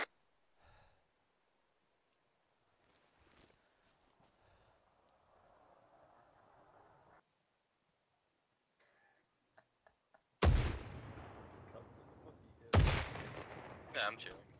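Mortar fire in the military shooter ArmA 3: two heavy, booming blasts a couple of seconds apart, loud and close, after a quiet stretch with faint scattered noise and a distant rumble.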